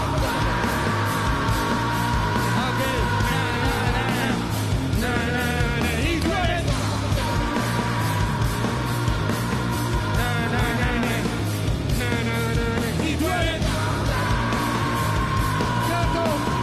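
A rap concert crowd yells along in unison over loud, dense music, their shouts rising in repeated bursts that fill the whole stretch without letup.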